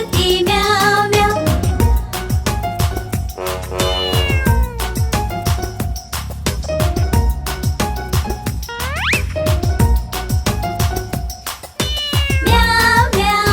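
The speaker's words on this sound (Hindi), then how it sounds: "बिल्ली करती म्याऊ म्याऊ" Cat meowing repeatedly, several clear rising and falling meows over about fourteen seconds, set against music with a rhythmic beat in a Hindi children's song.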